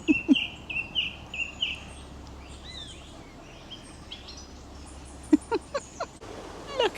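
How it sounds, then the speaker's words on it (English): Above a canal, a bird gives bright, warbling electronic-sounding chirps and whistles in short bursts. Lower clucking calls come in near the start and end over a quiet outdoor background. "You hear this bird up here?"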